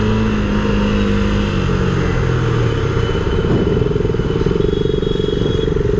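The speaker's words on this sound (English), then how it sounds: "I really like how it pulls away from the traffic." A KTM Duke 250 motorcycle pulling away from city traffic, its engine loud and close with a steady, rising drone throughout, surrounded by road noise.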